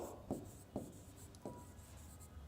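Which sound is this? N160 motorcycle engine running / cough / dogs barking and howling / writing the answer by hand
writing the answer by hand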